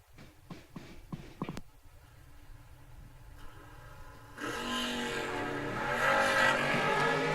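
At a drag racing event, a roadster race car opens with several sharp bangs, then a quieter lull, and then a loud, sustained engine roar builds as it accelerates down the strip.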